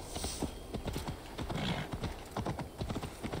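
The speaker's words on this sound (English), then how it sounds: "Oh, hey, other horse." Horse hooves clip-clop steadily in Assassin's Creed Valhalla, a brisk, even rhythm of soft thuds repeating throughout, fairly quiet and alone with no talking.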